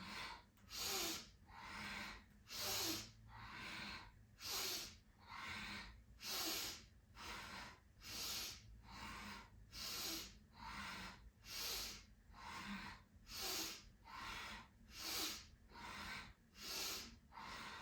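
Rhythmic yoga breathing during a morning dynamic breathing routine: about ten forceful, hissing breaths in and out through the nose, evenly paced roughly every two seconds, close and clear, with no talking.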